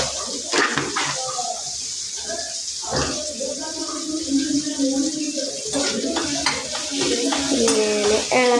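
Leaves being stirred as they fry in coconut oil in a pan, a steady sizzle broken by scraping and clattering stirs, with voices talking over it.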